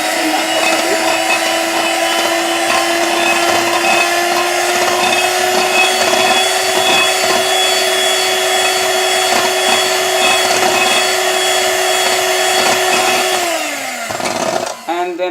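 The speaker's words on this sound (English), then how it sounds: "I've brought into play my hand mixer. So I'm going to be mixing" An electric hand mixer whirs steadily while blending homemade herbal lotion, a loud, close, continuous motor drone that holds one pitch for about thirteen seconds, then winds down and stops with a rattle.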